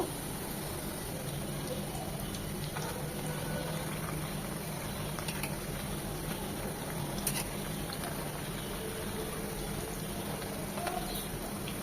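Chicken chops shallow-frying in oil over low heat, a faint, even bubbling sizzle running steadily throughout, quiet and without speech.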